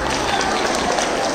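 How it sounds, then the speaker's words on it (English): A school audience at a girls' school event applauds in a dense, steady wash of clapping that fills the hall, with a faint trace of voices beneath it. "Give yourselves a round of applause."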